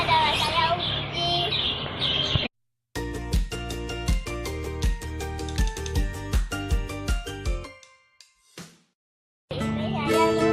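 Pet parakeet chirping in bright rapid bursts of short tweets, a lively run of calls broken by brief pauses, near and fairly loud.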